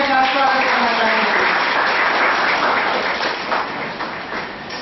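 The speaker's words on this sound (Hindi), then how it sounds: "आईएमसी के सभी मेंबरगण जोरदार तालियों के साथ स्वागत करना चाहेंगे" Members of an IMC are welcomed with a burst of hearty clapping at the inauguration of an IT lab. The applause is dense and fairly loud, then gradually thins and fades toward the end.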